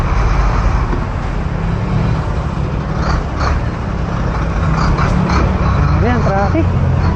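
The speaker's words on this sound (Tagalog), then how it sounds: "Ayan, traffic." Road traffic with cars, trucks and buses passes steadily around a cyclist riding downhill toward an intersection, a continuous loud roadway rumble with brief air-brake hisses, and people speaking over it.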